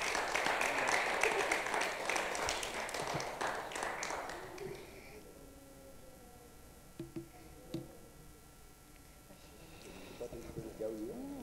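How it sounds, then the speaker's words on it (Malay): Audience applause for a guest lecturer at a talk on hunting rare manuscripts in Singapore: a burst of many clapping hands that fades out after about five seconds, followed by quiet room sounds and a speaker's voice. "Kita berikan tepukan kepada Dr. Saida."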